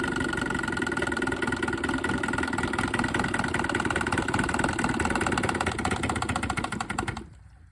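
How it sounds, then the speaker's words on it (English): A vintage OMC Evinrude Johnson outboard motor with a pressure tank idles slowly and steadily, its close, even rhythmic putter running for several seconds before cutting off abruptly. "So whenever motors idle this slow, you know they're healthy motors"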